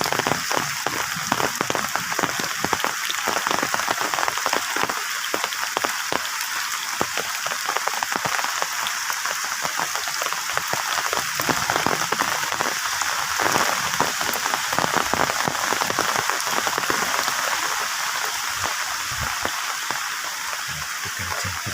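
Heavy rain pours down in a rural village, a dense, constant roar of drops drumming on surfaces with scattered louder splats, steady and close throughout.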